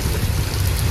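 Heavy rain and strong wind lash a deep-sea fishing boat with stay nets, a steady close roar of wind buffeting and rushing water filling the whole second without pause.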